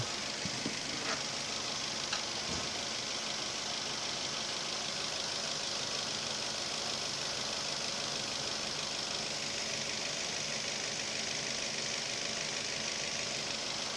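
Daihatsu Terios engine fitted with a cold air intake, running at a steady moderate idle with a low mechanical hum and faint tapping, a couple of brief clicks early on, no voices.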